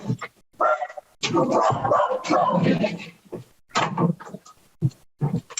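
A pet dog barking indoors during a committee meeting: a string of close, loud barks and yips in uneven bursts with short gaps between them.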